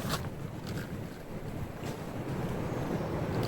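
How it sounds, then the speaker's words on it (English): Steady roar of strong winter wind buffeting the microphone at a campsite in Iowa's Loess Hills, with rushing gusts swelling and easing throughout and no voices. "It's very windy."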